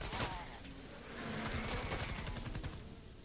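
Rapid bursts of hip fire from the Grave Digger gun in Fortnite Save the World, fairly faint amid game noise.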